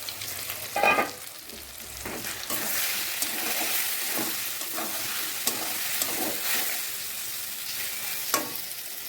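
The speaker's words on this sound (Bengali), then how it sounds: "এবার আমি একই তেলে সয়াবিন যে ম্যাগনেট করে রেখে দিয়েছিলাম সেই সয়াবিনটা ভেজে নেব।" Marinated soya chunks fry in hot oil, giving a continuous close crackling sizzle with intermittent spoon scrapes and stirring knocks throughout.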